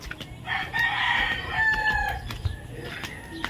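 A native chicken crows nearby in one long drawn-out call, followed by a few softer clucks against quiet farmyard background, with no speech.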